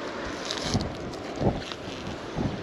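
Wind blows hard outdoors beside a backyard pond, a continuous rushing roar buffeting the microphone, with a few stronger gusts.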